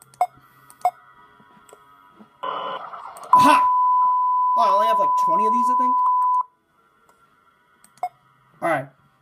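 A sustained electronic sensor beep tone holds steady for about three seconds in the Five Nights at Spy's horror game, framed by brief clicks and a voice talking before and after.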